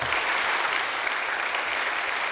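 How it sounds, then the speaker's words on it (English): An audience claps steadily and evenly after a conference talk at EuroPython 2017, a dense, continuous applause lasting a couple of seconds with no voices. "give Patrick an applause again"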